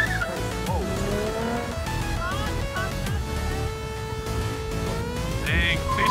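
Car accelerating hard at a large cars-and-coffee meet, engine revving and rising in pitch with a brief tire-squeal-like tone, heard at moderate distance under crowd chatter and people talking.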